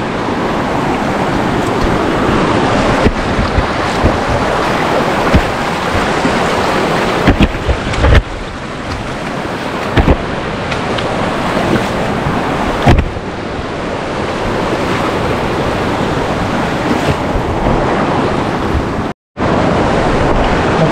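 Water rushes continuously along a rocky stream bed near Kshirdhara waterfall in Channat, making a loud, broadband roar. A few brief thumps and a short dropout break it, and there is no talking.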